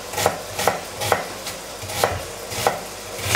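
A knife chops turkey pilaf ingredients on a cutting board in steady, evenly spaced thuds, about two per second, close by with a soft background hum.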